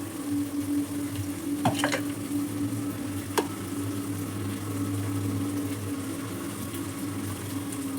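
Oil sizzling and crackling in a hot pan for egg biryani, a steady close frying hiss with a few sharp pops and spoon scrapes standing out partway through, no talk.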